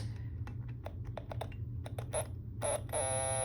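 A homemade electronic alarm circuit with a shut-off timer and trip wire gives a run of short clicks and blips, then switches into a steady, buzzy electronic tone near the end over a low hum.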